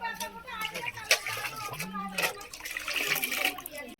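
Cold water poured into cooked rice being prepared as cow feed, splashing and gurgling liquid in uneven bursts, close and fairly quiet, with a person talking over it.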